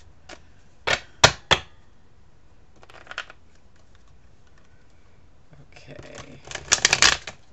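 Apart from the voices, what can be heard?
shuffling playing cards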